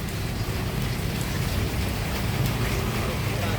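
Rain falls steadily in a dense, even hiss on surfaces nearby, continuous and moderately loud with no pauses.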